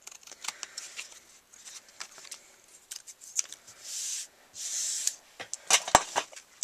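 Scissors snipping through card paper tacky with adhesive at the edge, a run of short crisp cuts with a few longer drawn strokes, close and fairly quiet with no talk.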